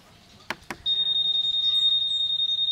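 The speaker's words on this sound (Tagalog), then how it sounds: "Meron pa siyang alarm." Two sharp clicks, then a Yamaha Winner X motorcycle's alarm beeps in a fast steady high-pitched electronic pulse, loud and close.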